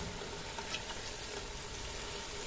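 Cauliflower fries with potatoes in a pan, a faint, even sizzle that holds steady throughout with no clear stirring strokes.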